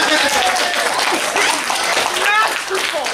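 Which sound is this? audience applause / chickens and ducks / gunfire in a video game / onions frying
audience applause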